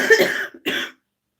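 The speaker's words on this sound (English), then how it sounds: "I need to cough that up." Two coughs close to the mic, a longer hacking one followed by a short second burst, then silence.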